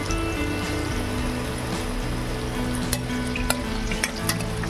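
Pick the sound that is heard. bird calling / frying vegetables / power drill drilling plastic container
frying vegetables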